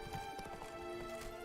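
Roach, a horse in The Witcher 3: Wild Hunt, gallops with quick, rhythmic hoofbeats under a soft, steady game music bed, faint and even.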